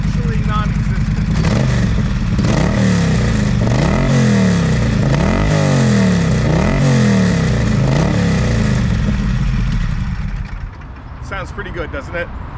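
A Moto Guzzi Griso motorcycle with a Guzzi Tech tune and aftermarket exhaust revs loudly and close, its V-twin throttle blipped in repeated rising and falling surges before settling to idle at the end.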